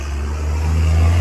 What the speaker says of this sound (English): these trucks making all this noise